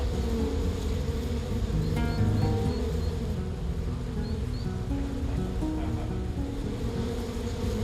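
A steady, dense buzz of many bees droning together at an apiary in a nature reserve, continuous throughout with a low rumbling background.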